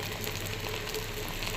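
Ghee sizzling in a frying pan, a faint, steady crackle and hiss that continues without a break.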